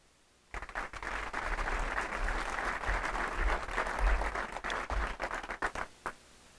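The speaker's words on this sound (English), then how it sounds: "I usually don't get applause before I pray." An audience at a United Way annual meeting breaks into steady, full-room applause welcoming a pastor before his prayer, sustained for several seconds and then tapering off into scattered claps.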